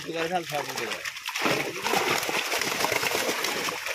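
Water splashes in a fish pond beside a brick kiln as catla fish are tossed in. Loud, irregular splashes and spatter follow a brief stretch of talk, and voices continue underneath.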